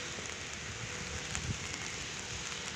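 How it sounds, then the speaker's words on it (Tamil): Heavy rain falls steadily in a dense, broad hiss, with wind gusting through it and occasional louder splashes nearby; no one speaks. "இங்க செம்மையா மழை பெய்யுது"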